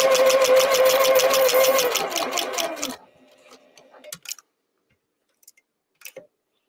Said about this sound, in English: I wish you guys could see how I'm sewing right now.